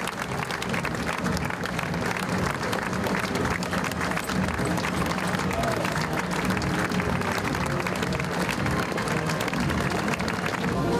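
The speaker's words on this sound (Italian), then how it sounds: "L'applauso per la sfilata dell'unità interforze accompagnata dalla banda musicale cittadina visentina." Sustained crowd applause for a joint forces parade accompanied by a town band, a thick, even roar of clapping from many people that continues unbroken throughout, with no voices on top.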